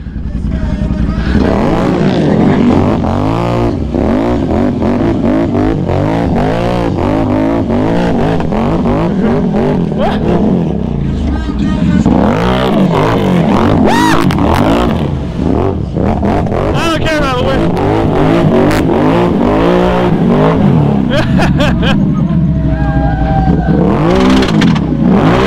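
A Can-Am off-road vehicle's engine revs hard and repeatedly at a bounty hole race as it attempts a reverse wheelie, a loud, rising and falling motor roar that runs throughout with voices mixed in.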